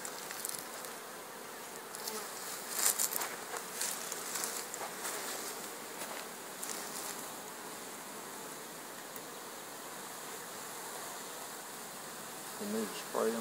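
A large swarm of honeybees, some ten to fifteen pounds of them, buzzes steadily and densely throughout during capture under a sheet, a continuous near hum with brief louder swells and faint voices in the background.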